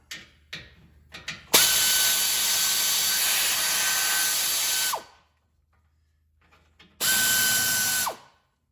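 A loud impact gun rattles continuously for several seconds, stops, then fires again in a shorter burst, preceded by a few clicks and knocks, while removing parts from a 1961 Cadillac.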